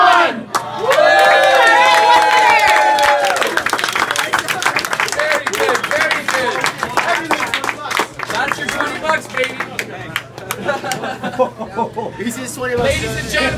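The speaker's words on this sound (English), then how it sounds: "Let's give a round of applause to all the contestants here today." A crowd at a hot-pizza eating challenge with reaper sauce and scorpion peppers erupts in loud cheering, whooping and clapping that builds and then thins out, with a voice talking over it.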